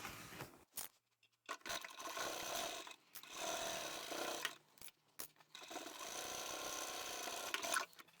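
A sewing machine stitches across the bottom edge of a fabric pyramid zippered pouch, running in several steady mechanical bursts separated by short pauses, close and clear.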